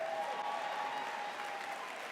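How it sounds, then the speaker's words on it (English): Audience applause from a live crowd welcoming a performer, steady dense clapping throughout, fairly distant and even in level. "Let's give him another round of applause."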